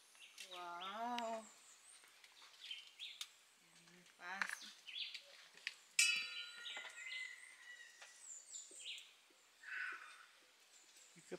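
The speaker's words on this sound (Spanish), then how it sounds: "¿Qué pájaro que suena por ahí?" A bird calls nearby in short, separated chirps and whistled phrases against a quiet background, with brief voices in between.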